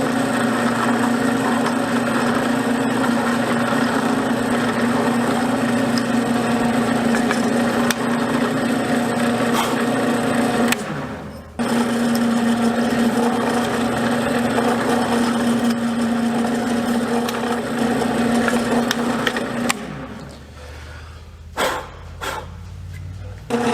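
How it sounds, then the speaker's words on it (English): A drill with a 1/8 inch bit bores into a black walnut knife handle beside the tang, a loud, steady motor whine that breaks briefly midway, then stops near the end, leaving a few knocks. "my strategy is just to drill either side of the tang with an 1/8 inch drill bit"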